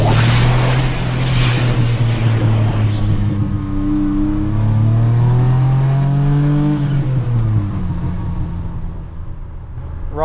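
A 1981 DMC DeLorean accelerating hard from inside the cabin, its engine note climbing in steady pitch through several gears with brief dips at each shift, loud and continuous, then easing off near the end.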